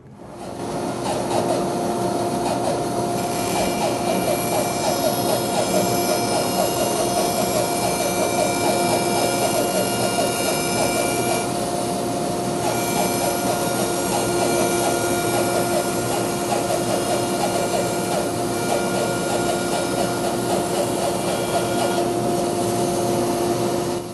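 A bandsaw resawing a wood workpiece gives off a loud, continuous mechanical drone with a steady high whine over a rough cutting hiss, holding nearly unchanged from start to finish.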